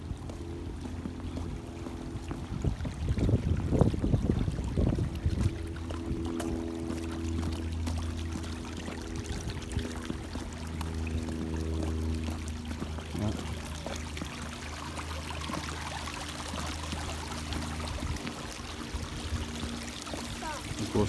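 Water draining from a pond at a house toward a street drain, heard as a continuous soft pouring and trickling wash with a stronger gurgling surge early on.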